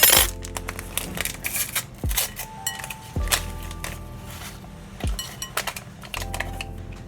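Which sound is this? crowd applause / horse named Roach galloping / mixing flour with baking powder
mixing flour with baking powder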